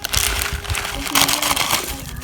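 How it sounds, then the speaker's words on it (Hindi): Maggi noodles go into a pan of boiling water, heard as a close, continuous crinkly, crunching rustle with bubbling underneath for a couple of seconds, with no voice over it. "तो पानी को उबाल आ गया है, नूडल्स ऐड कर देंगे"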